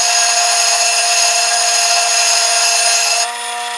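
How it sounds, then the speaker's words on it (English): A Dremel rotary tool grinds into wood with a high, steady whine that holds for about three seconds, then drops to a lower, softer pitch as it eases off. "Definitely gonna have to hit this with the Dremel."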